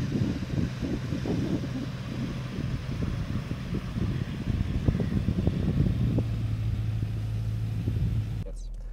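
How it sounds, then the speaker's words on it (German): A 1979 Mercedes 450 SE W116 V8 idles at about 1200 rpm, a smooth low rumble with a steady hum running beneath someone talking over it, cut off abruptly at the end. "das ist dieser ganz tolle Motorlauf"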